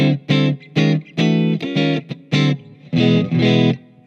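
An electric guitar through a Fender Mustang GT digital amplifier on its '65 Twin model plays a clean, punchy riff of short chords and notes with brief gaps, ending on a couple of fuller strums.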